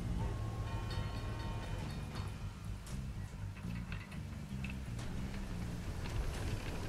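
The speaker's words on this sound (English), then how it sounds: "You can deal with the spooky train again" A spooky train rumbles past in the video game The Surge, a steady rolling rail clatter with faint high squeals throughout, fairly loud and continuous.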